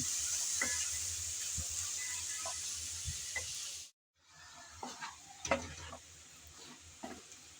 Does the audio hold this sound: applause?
no